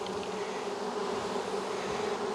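Honey bees buzz in a steady, close drone around a remnant of a nest, with no other sounds.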